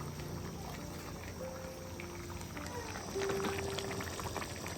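Masala chicken cooking in a covered pot as its water boils off, a steady bubbling hiss with a faint hum, close and even throughout, growing slightly louder near the end.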